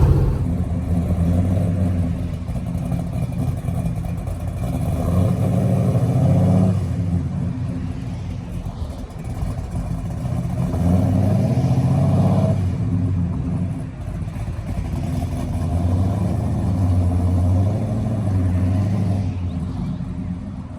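A 1970 Dodge Charger with newly replaced front suspension drives along with a steady, loud, low engine rumble that swells in several waves as it accelerates, heard close up with no talk.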